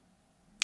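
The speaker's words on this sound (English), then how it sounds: "just 3, 2, 1 and then snap your fingers" One sharp finger snap, close and crisp, after a near-silent pause.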